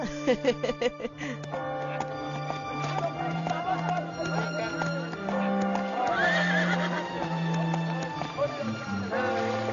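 An animated horse in a Tamil cartoon episode neighs loudly with a long, wavering whinny, while hoof clip-clops and music play throughout.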